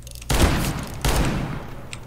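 Two heavy bursts of video game gunfire, each a loud booming volley that lingers and fades, the second following about three quarters of a second after the first.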